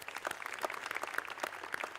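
Audience applause at a TEDx youth event, a dense patter of many hands clapping at moderate distance, steady and fairly soft throughout.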